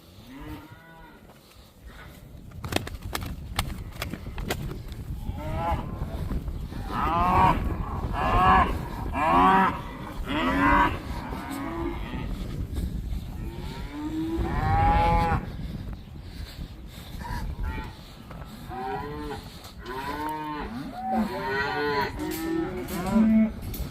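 A mama cow and her calves moo repeatedly on a farm toward evening, with loud, drawn-out calls coming one after another and overlapping over a steady outdoor background.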